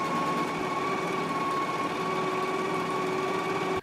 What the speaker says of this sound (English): Now I'm going to go ahead and sew this at a 5/8 inch seam allowance and then finish off my edges with my serger